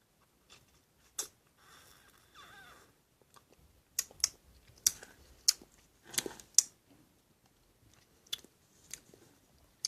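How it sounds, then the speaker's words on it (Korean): Someone eating homemade melon pudding up close, with soft chewing, wet mouth sounds and sharp spoon clicks scattered irregularly through quiet pauses. "이거 먹어볼게요."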